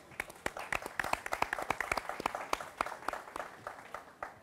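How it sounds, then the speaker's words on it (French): Applause for the Urbacom president at the closing of the SIB 2022 event, made of distinct individual claps from a modest crowd, fairly faint and uneven, lasting a few seconds. "Merci de l'applaudir."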